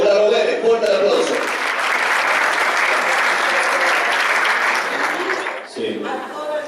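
An audience at an academic talk on physical education bursts into strong, dense applause that holds steady for several seconds, with a voice speaking briefly before it starts and again as it dies down.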